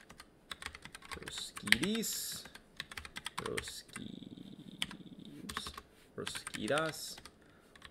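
Fingers clatter on a computer keyboard in bursts of quick, light key clicks, close and fairly quiet, while someone speaks intermittently over the typing.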